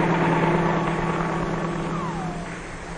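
A 1953-era helicopter's engine and rotor drone steadily and loudly, a constant close mechanical hum with a faint pitch sweep partway through.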